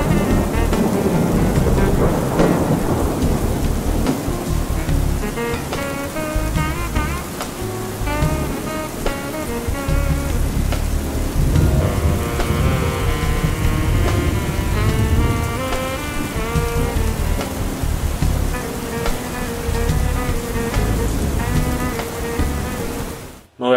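Steady, loud rain falls outside a home, a continuous dense hiss with soft rumbles like distant thunder, and no talk over it.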